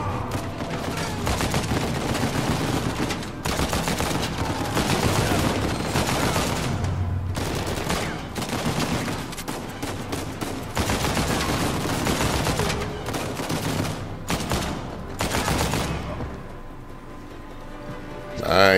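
Bursts of video game gunfire from Uncharted 4, rapid automatic fusillades and single shots, loud and close, repeating through the clip with brief pauses, and speech is also heard.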